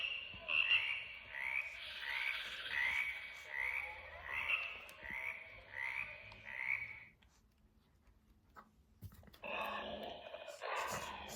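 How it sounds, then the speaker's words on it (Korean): Rhythmic frog croaks from a children's sound book repeat about seven times in a steady pattern, then a pause before another burst of croaking. "개굴 개굴"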